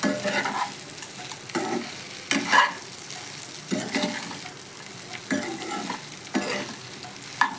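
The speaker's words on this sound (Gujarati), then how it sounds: "આ ઇડલી નાખી દઈશું અને હલાવી દઈશું" Idli pieces get tossed and stirred in a frying pan, giving a soft sizzle broken by repeated scraping strokes of a spoon at an uneven rhythm, close and fairly loud.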